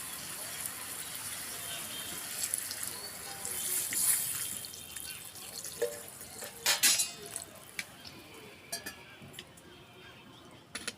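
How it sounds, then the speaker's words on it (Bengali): Water is poured into a pan of fried pumpkin greens, giving a faint trickle and sizzle with scattered clinks of utensils against the pan, under soft talk. "এবারে জল দিয়ে দেব।"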